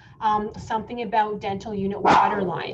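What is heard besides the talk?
dog barking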